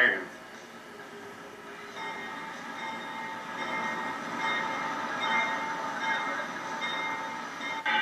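A diesel locomotive on a turntable outside a roundhouse rumbles slowly and steadily with faint metallic squeals and clanks, its engine droning at moderate distance.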